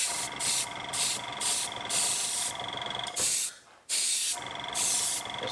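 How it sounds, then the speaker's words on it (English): An airbrush sprays paint onto an Auscision XPT model train carriage for weathering, delivering repeated short bursts of loud, close hiss separated by brief gaps, with no voices. "Just give that a light spray like that."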